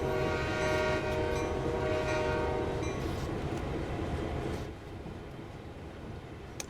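A locomotive horn in Train Sim World 3 sounds one long, loud, steady blast over the rumble of a train on the CN Oakville Subdivision, then cuts off, leaving the rolling rumble alone.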